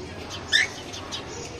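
Sparrow chicks chirp on a home balcony with a couple of faint, high, brief peeps over quiet background hiss.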